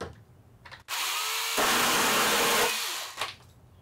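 A Harbor Freight power tool whines up and cuts through a 1-inch by 1-inch square piece of wood, a loud continuous burst of about two seconds that rises in pitch and then spins down, ending with a brief clatter.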